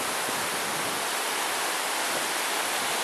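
Waves wash in along the beach at Padre Island on a calm morning, a loud, steady roar of broken surf hissing without pause and filling the whole scene.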